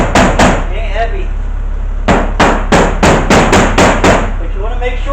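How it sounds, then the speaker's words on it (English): A 16 to 18 ounce hammer knocks thick flaking rust off the stripped floor of a 1996 bus, two quick blows followed by a steady run of about eight loud, evenly spaced strikes ringing against metal. "Probably a 16 ounce, 18 ounce hammer. It ain't heavy."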